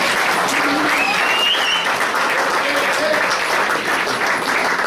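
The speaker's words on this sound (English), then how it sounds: "I wanted to clap for Neil." An audience at a community function claps steadily and loudly for a dense, sustained stretch, with a few voices and cheers mixed into the applause.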